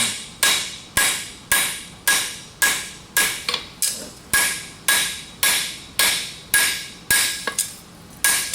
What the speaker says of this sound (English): I've chosen a hammer with a little broader round side of the hammer